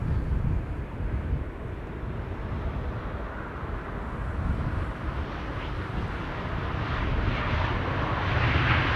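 An ITA Airways Airbus A220 jet arriving at Amsterdam Schiphol Airport on a windy day: a broad, steady engine rumble with wind buffeting, gradually swelling louder toward the end, with no voices.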